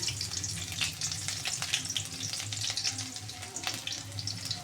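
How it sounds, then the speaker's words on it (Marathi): Garlic fries in very hot oil in a home kitchen, giving a steady, close, dense sizzle throughout with no talking. "तेल जास्त तापलंय त्याच्यामुळे ना लसूण लगेच लाल झालाय"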